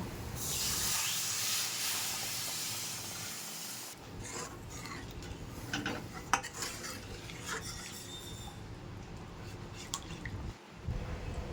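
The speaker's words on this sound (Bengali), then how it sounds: "এবার পরিমাণ মতো গরম জল দিয়ে দেব" Hot water poured into a pan of cooked-down masala for Bengali mutter paneer, giving a steady hissing, bubbling rush that settles into lighter sizzling with scattered utensil clinks and stirring.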